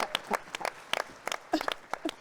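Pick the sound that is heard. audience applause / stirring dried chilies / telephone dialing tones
audience applause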